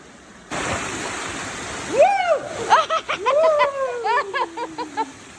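Cold, clear spring water at Kilangin Falls in Liliw, splashing and rushing steadily and loudly, with excited voices shouting over the water.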